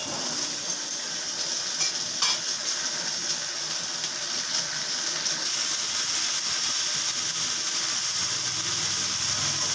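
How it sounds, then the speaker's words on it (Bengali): Pointed gourd (potol) with a little turmeric fries in a pan, giving a dense, continuous sizzle with faint stirring scrapes, close and steady throughout, with no talking. "পটলটাকে আমি ভালো করে একটু ভেজে নিচ্ছি, তারপরে আবার ফিরে আসছি।"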